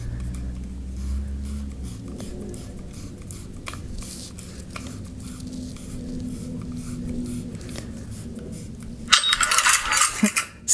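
Pixel Saber CFX lightsaber hilt giving its startup sound as the battery is inserted: a sudden bright, crackling burst near the end, loud and close, after a stretch of quiet handling noise.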